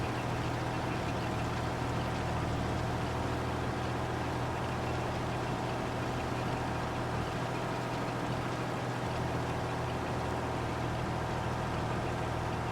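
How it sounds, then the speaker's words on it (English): In Farming Simulator, a farm vehicle's engine drones steadily under load in mud, a continuous low rumble with no break and no talking. "Hear the RPMs pulling hard on this thing."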